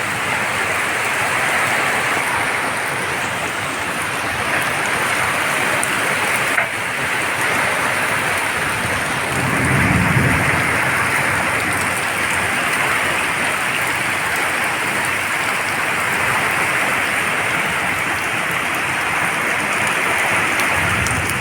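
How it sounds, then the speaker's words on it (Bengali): Heavy rain pours steadily through a stormy night with hail, lightning and a mango tree thrashing in the wind nearby, a continuous dense hiss lasting throughout with a brief low rumble midway. "আর বৃষ্টিটা কী জোরে পড়ছে দেখো"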